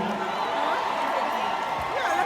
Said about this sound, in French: Applaudissements bien forts pour Benna, s'il vous plaît.